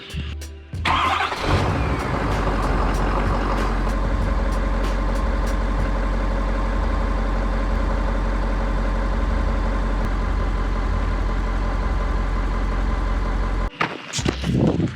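A Ford F-250 pickup truck's engine cranks briefly and catches, then settles into a steady, loud, close idle that rumbles on before a short burst of noise at the end, with no talk.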